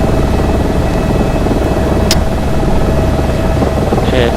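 AS350B3 helicopter in the X-Plane 11 flight simulator, a steady dense rotor and turbine roar filling the whole clip at constant loudness, with a faint brief chirp midway.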